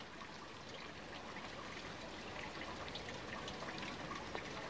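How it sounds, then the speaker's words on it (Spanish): Steady rain patters and hisses continuously, a dense, even wash of falling water with no voices. "Escuchen, la lluvia está amainando."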